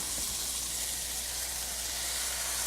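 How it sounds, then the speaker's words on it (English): Red wine poured onto sizzling beef in a pan for beef burgundy, producing a steady hiss and frying sizzle with a low hum underneath, continuous and fairly quiet. "Here, we're going to put this wine in the meat now."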